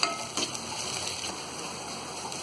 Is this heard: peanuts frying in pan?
yes